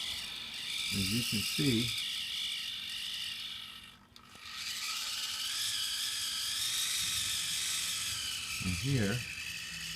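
A small servo spins a motor with a steady, close high-pitched whirring and a ratcheting mechanical buzz that briefly dips and restarts, while someone speaks over it at the start and end.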